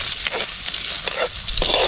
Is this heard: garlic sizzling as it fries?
yes